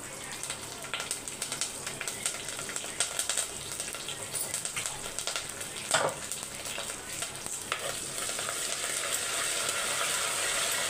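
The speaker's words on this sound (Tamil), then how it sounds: "நல்லா பொரியட்டும்." Crushed garlic, dried chillies and curry leaves sizzle and crackle in hot oil, with steady frying and a few stirring scrapes close by and no talking.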